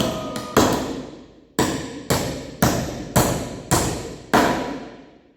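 A hammer drives a nail with a magnetic nail-setting attachment: seven sharp, loud strikes land close by in a steady rhythm after two quick taps, each ringing out briefly before the next blow.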